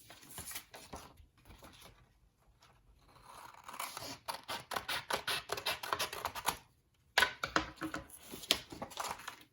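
Scissors snipping through paper to trim the tail of a paper collage alligator, a close run of quick, crisp cuts with a brief pause partway through, then more rapid snips.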